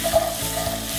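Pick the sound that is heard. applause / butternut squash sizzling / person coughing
butternut squash sizzling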